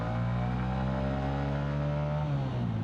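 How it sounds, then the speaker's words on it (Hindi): Honda CB 125 or Yamaha XSR 155 motorcycle pulling in second gear under throttle in eco mode, a steady loud engine drone with rising harmonics that shift pitch near the end, no talk over it. "अब अगर मैं यहाँ से सेकंड गियर पे हूँ, मैं अब सेकंड गियर पे मैं थ्रॉटल देता हूँ"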